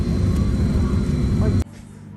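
Airliner engines roar as a loud, steady broadband drone inside a darkened cabin before an early flight, cutting off abruptly near the end to a quieter hum.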